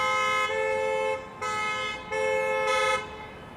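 Car horns blaring at a red light on a Miami street at night: a rapid series of three or four sustained honks with brief breaks between, loud and close.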